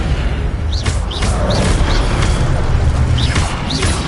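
Levioso spell effect from Hogwarts Legacy: a dense, steady magical whoosh with a low rumble beneath, dotted with short rising chirps and a few soft booming pulses throughout.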